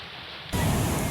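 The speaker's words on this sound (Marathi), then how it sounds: "रात्रीपासून नाशिकमध्ये मुसळधार पाऊस कोसळतोय" Heavy rain pours during a flood of the Nandini river in Nashik. It starts as a quieter wash and then jumps to a loud, dense, steady hiss.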